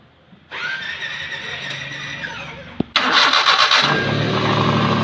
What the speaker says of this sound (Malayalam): നമുക്ക് വണ്ടി ഒന്ന് സ്റ്റാർട്ട് ചെയ്ത് നോക്കാം.